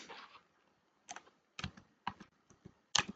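Keys clack on a computer keyboard in short sparse bursts with pauses between them, close and fairly quiet.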